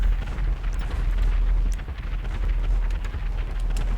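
Heavy, continuous booming rumble of missile explosions in the GTA Online video game, a dense low roar with repeated blasts and no pause across the whole stretch.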